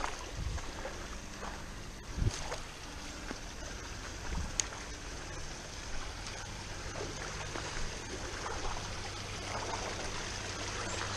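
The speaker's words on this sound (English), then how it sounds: "You can see a little stream running down, splashing its way in back there." A small stream trickles and splashes continuously at a low level, with a few faint knocks and bumps nearby.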